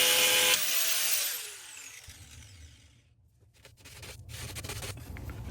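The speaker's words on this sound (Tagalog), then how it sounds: "Kailangan tanggalin ko yung nakaalasang screw" Power drill backing out a screw from a board, a loud high whine for about a second that winds down to quiet, then faint scraping and handling sounds of the wood and tool.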